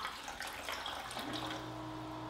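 Alkaline water being poured into containers, a steady close splashing trickle of liquid with a hollow ringing tone building as the vessel fills, with no talking.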